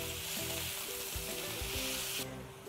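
Beef mince browns in a frying pan, giving a bright, even sizzle close by, with a few soft knocks as it is broken up, ending abruptly.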